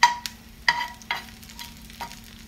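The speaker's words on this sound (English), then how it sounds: "Next, you need to add in your dry shrimp." Dried shrimp go into a pan for stir-fried gourd with eggs, giving a close sizzle with a few sharp utensil scrapes and clatters, and no talk.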